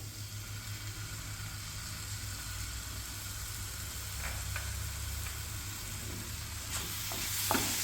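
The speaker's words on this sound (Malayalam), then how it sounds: "നന്നായി ഇളക്കി യോജിപ്പിക്കാം" Radish curry with tomato sauce simmers in a pan while being stirred, a soft continuous sizzle with a low steady hum beneath and a few light utensil scrapes toward the end, quiet and close with no voices.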